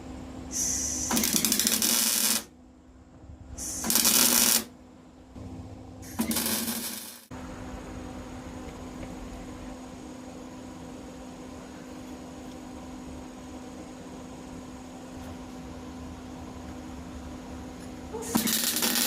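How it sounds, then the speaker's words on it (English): Welding a washer and hub onto a riding mower pulley gives several loud crackling bursts of a few seconds each, then a long steadier hissing buzz with a constant hum beneath, and another burst at the end. "So of course we'll weld the washer to the pulley, and we will weld the hub to the washer."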